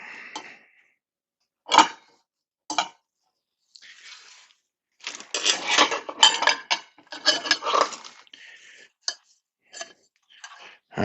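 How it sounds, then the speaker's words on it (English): Plastic and metal parts of a VEVOR 10-inch meat slicer clack, click and scrape as a knob is turned and the center section is pulled out for cleaning, in scattered close handling sounds. "For cleaning, turn this knob on the back here. And this center section will come out."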